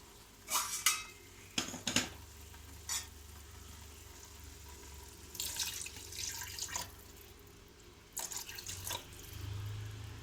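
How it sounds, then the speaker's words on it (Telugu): Water goes into a hot pan of egg curry seasoned with salt and garam masala, giving several sizzling, splashing bursts with stirring between them, close and moderately loud, with no voices. "వాటర్ వేసుకుందాము."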